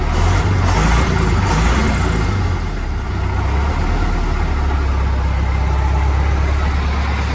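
A heavy tractor diesel engine idling close by after a fuel pump replacement, a loud, steady low rumble with rattling chug that barely changes throughout.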